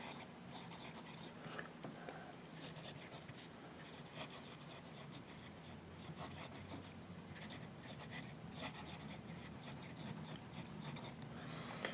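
A Delta Dolcevita fountain pen with a fine nib scratches steadily across paper in close, continuous strokes, a soft rasping scrawl with brief pauses between words and no talking.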